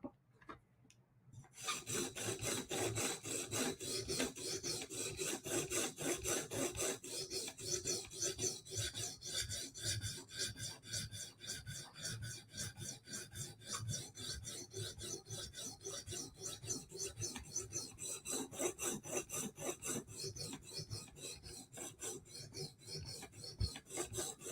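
A kitchen knife is drawn over a sharpening stone in rapid, repeated rasping strokes, close and steady for over twenty seconds after a brief quiet start, with extra work on the heel of the blade.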